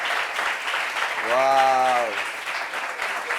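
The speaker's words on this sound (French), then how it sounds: "Applaudissements pour elle, s'il vous plaît." Applause from a studio audience on a French-language talk show fills the clip, with a voice exclaiming in amazement over the clapping partway through.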